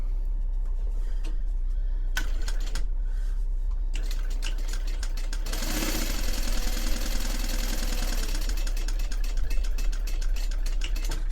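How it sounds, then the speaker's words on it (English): A home sewing machine basts a straight seam across fabric for a Voyageur Cube bag, its dense mechanical chatter building steadily from the middle of the clip after a few short bursts and clicks, close and loud with no talk. "I just want to baste going straight across, and then once I start veering in a little bit, I'm going to stop"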